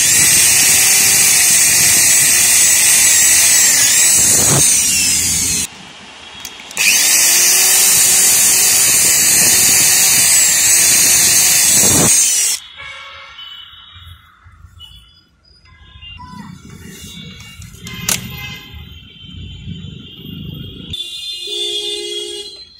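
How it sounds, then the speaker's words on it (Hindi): A power drill bores a hole in the interior trim of a two-door Mercedes to fit a strip light, a loud high whine running in two long bursts, followed by quieter clicks and handling noises. "अब यहाँ पे हम ड्रिल करेंगे, जो हमें स्ट्रिप लाइट बिठानी है यहाँ पे।"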